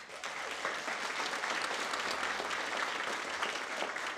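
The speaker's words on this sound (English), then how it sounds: "Give yourselves a round of applause." Graduates and guests at a vocational nursing pinning ceremony break into sustained, even applause, a continuous wash of many hands clapping heard from some distance in a large room.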